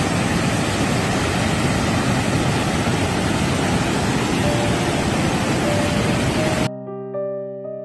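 Jiktang Waterfall in Korea, a wide, low falls about 80 m across, pours in a loud, steady broadband roar close by, then cuts off abruptly near the end, leaving a faint tonal hum.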